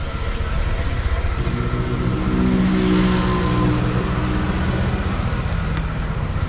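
Motorbike ridden off along a road in Phu Quoc, Vietnam, giving a steady, close engine drone with wind rush that swells slightly midway and continues throughout.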